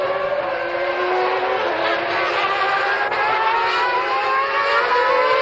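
Formula One cars, including Alesi's Ferrari racing Schumacher at the Nürburgring in 1995, hold a loud, continuous high-pitched engine whine that climbs in pitch as they accelerate.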